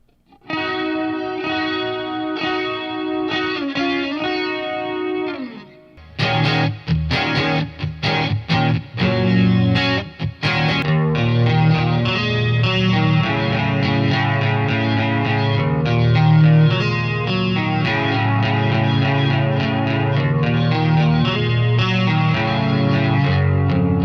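Electric guitar through a BOSS Katana MK2 amp on a clean setting with noise suppressor, playing alone, a few sustained chords first, then busier strummed and picked phrases with a shimmering, echoing effect, fairly loud and continuous.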